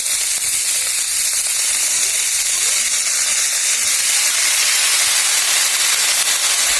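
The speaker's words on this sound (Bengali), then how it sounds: "এখন শাকগুলো ভেজে নেব।" Greens and nigella seeds fry in a little oil with chillies, giving a loud, steady, close hiss of sizzling that runs without a break and with no voices.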